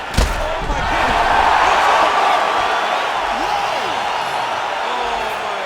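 A roaring arena crowd cheers steadily in the UFC 5 video game after a fight-ending shot, opening with a sharp slam-like thud before the swelling cheer holds loud and continuous.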